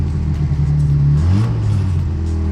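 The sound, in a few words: car engine revving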